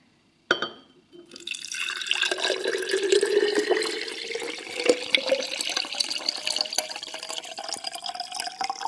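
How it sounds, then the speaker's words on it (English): After a sharp click, filtered water runs into a container of about one liter for fermenting, its tone rising steadily as the vessel fills, close and continuous. "And then I fill up with filtered water."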